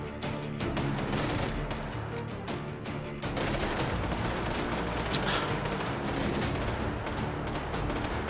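Dense, rapid gunfire in the VR shooter Hot Dogs, Horseshoes & Hand Grenades, loud continuous bursts of shots with booming low rumble, unbroken for the whole stretch.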